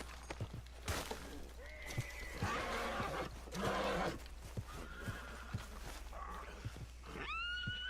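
Horses in Red Dead Redemption 2 whinny in bursts, with a sharp loud neigh near the end, over hoof clip-clops and snorting movement, close by and with no talk.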